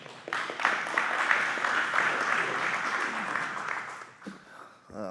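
Audience applause at a city council committee community meeting on flavored tobacco, welcoming a gas station owner to speak; dense, sustained clapping fills the room for about four seconds, then tapers off into scattered claps.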